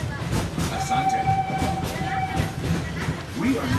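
A theme-park safari train runs on its rails with a steady rumbling roll and faint squeals throughout, a continuous moderately loud ride noise.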